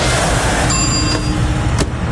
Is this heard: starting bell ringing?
yes